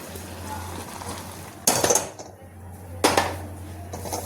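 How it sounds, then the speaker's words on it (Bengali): In a home kitchen, an iron wok is set onto the stove while masoor dal bharta is being cooked. Two sharp metallic clanks ring out a second or so apart over a faint steady hum. "কড়া বসিয়ে নেব।"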